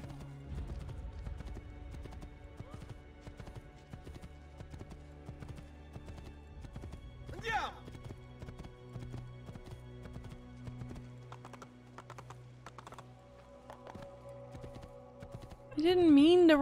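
Horse hooves clip-clopping in Assassin's Creed, a steady rhythmic trot running throughout, with a brief whinny midway and a player talking over the game sound.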